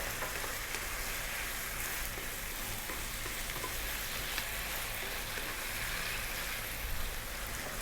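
Garlic ginger paste and fresh chili frying in a pan for a spinach sweet potato curry, a steady close sizzle and crackle that runs unbroken for the whole stretch with no voices over it.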